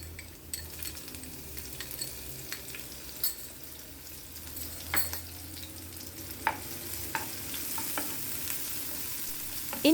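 Chopped garlic, ginger and three finely cut green chillies sautéing in oil, a low steady sizzle under frequent spoon scrapes and clicks against the pan, close up with no voices.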